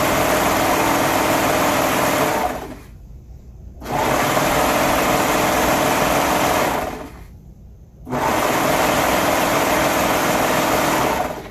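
A serger sewing machine stitches fabric in long, loud, continuous high-speed whirring runs, stopping twice briefly before starting up again.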